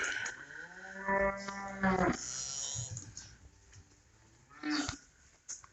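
Cattle in a calving-season pen give several loud, drawn-out moos close by, with a shorter call later and quiet gaps between them.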